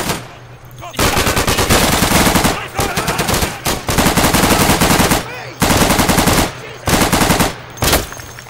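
Automatic weapon fire in the World War II shooter game Day of Infamy, several loud sustained bursts separated by short pauses, close and harsh.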